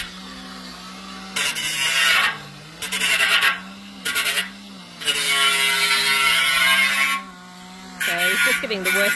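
Metal being filed to take jagged edges off a cut: rasping, ratchety strokes in bursts with short pauses between them, loud and close.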